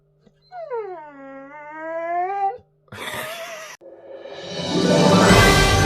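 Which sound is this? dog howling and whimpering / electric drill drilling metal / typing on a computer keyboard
dog howling and whimpering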